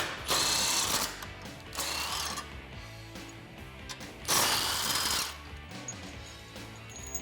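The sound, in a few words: socket ratchet removing Jeep Wrangler front bumper brackets and tow hook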